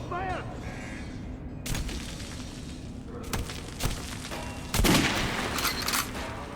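Weapons fire in rapid bursts and single shots during a shooting-range tutorial in the video game Metro Last Light Redux on Nintendo Switch, loud and continuous over a rumbling game background.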